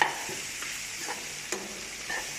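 Bitter gourd stir-fry with coconut stirred in a pan, soft scraping strokes of a spoon at a slow irregular pace over a faint low sizzle, close and quiet, no talk.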